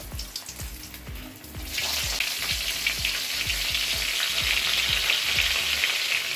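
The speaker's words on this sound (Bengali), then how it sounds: "তো এবারে আমি এটাকে ফ্রাই করে নেব।" Stuffed pointed gourds frying in hot oil with turmeric, a loud steady sizzle that swells after a few seconds, with repeated low knocks and scrapes of a utensil moving the pieces in the pan.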